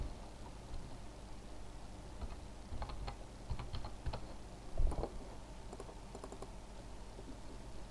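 Typing on a computer keyboard while building a Word advertising leaflet, a faint, irregular patter of key clicks over steady background hiss, with no voices.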